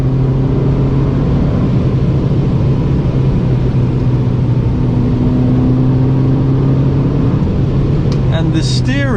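An Abarth 595 engine pulls hard in fourth gear through a corner, giving a loud, steady drone with road and wind roar inside the cabin, and a voice talks over it.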